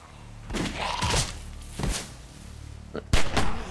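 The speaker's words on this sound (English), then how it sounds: "the gunshots are gonna attract even more zombies" Several sharp gunshots ring out in the video game The Walking Dead, a couple close together early on, then a louder burst near the end, with thuds in between.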